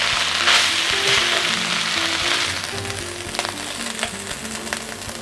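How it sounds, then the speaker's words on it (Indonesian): Tripe serundeng with grated coconut being stirred in a frying pan: a steady, loud sizzle fills the clip while a utensil scrapes and clatters through the mixture in irregular strokes, with no talking. "harus diaduk terus ya"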